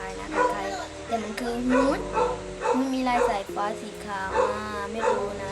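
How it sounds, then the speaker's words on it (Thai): A dog barks and yips with whiny, pitched bursts close by while a person keeps talking over it. "ขออภัยที่มีเสียงมาเห่านิดนึงนะ"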